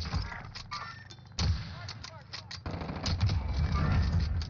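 Gunfire in the video game Call of Duty Warzone on Rebirth Island, with several sharp shots and thuds over game noise while players talk excitedly throughout.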